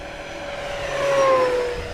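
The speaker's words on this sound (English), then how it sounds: "Full throttle pass on 8S." An FMS 1700mm Corsair RC warbird on 8S makes a full-throttle pass, its propeller and electric motor whine rising and swelling louder as it nears, then easing slightly, heard at a distance outdoors with no talking.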